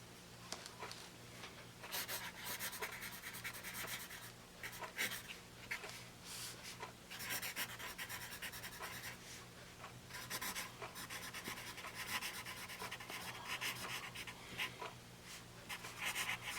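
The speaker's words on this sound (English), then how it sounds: "let's see how this pencil writes" A vintage Stanley Home Products ordering pencil, graphite like a number 2, scratches steadily across paper in close, continuous strokes with brief pauses between bursts.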